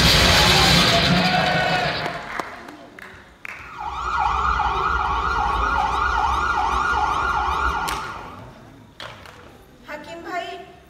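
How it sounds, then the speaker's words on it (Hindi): An ambulance siren arriving during a 2019 play: a wavering, rising-and-falling wail that swells in, holds for several seconds and then stops, with voices heard around it. "एम्बुलेंस आ गई एम्बुलेंस"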